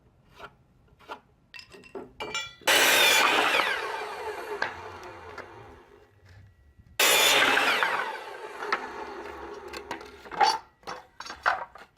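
Scrap wood boards being sawn to length, two bursts of loud, rasping strokes of several seconds each, separated by quieter handling knocks and clinks.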